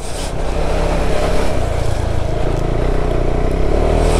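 A KTM 390 Adventure motorcycle's engine runs loud and close, a steady throaty drone that builds slightly in pitch, with rushing water in the background.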